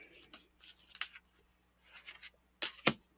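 Tarot cards are drawn from a deck one at a time, giving soft, separate papery slides and flicks with brief pauses between them, close and fairly quiet, with no talking.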